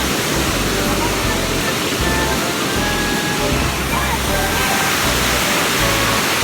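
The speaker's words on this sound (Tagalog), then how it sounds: "Look at the falls." Badiang waterfall in Valencia, Bohol, sends up a loud, constant rushing roar from nearby, steady and unbroken throughout, with a voice faintly buried beneath the water.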